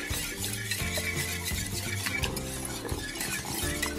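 Maple syrup being mixed into a gluten-free carrot cake batter, heard as steady close stirring and scraping with faint clinks against the bowl, continuous throughout.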